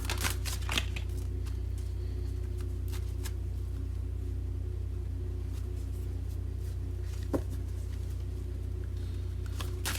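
Soft rapid tarot card shuffling with a few sharper snaps at the start and end, over a constant low electrical hum.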